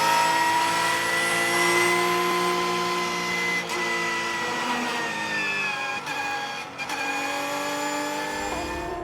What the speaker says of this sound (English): You can hear him really having to feather the throttle.